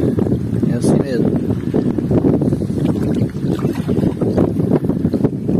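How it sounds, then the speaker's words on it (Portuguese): A light south wind blows over a lagoon at high tide, with choppy water around a small boat, making steady loud gusting and buffeting noise on the microphone along with splashing, while a person talks over it throughout. "é um vento sul de leve"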